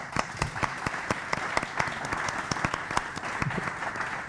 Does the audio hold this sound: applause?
yes